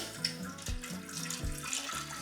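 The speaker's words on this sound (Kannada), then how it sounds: "ಮೊದಲಿಗೆ ಸ್ವಲ್ಪ ನೀರು ಹಾಕ್ಕೊಳ್ತಾ ಇದ್ದಾನೆ" Water splashes into a cooking pot on a gas stove in a home kitchen, a soft, close trickling pour with faint rhythmic sloshing.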